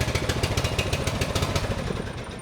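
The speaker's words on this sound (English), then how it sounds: "when you idle it up, it sounds like a lawnmower" A farm vehicle engine idles at raised revs with a rapid, even putter much like a lawnmower, loud and close and running steadily throughout with no voices.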